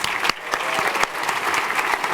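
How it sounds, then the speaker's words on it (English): Steady applause from a crowd, dense and continuous clapping throughout, with no voices standing out. "Let's give another round of applause."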